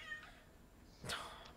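A house cat lets out a short meow near the end, clear against a quiet room with faint background hum.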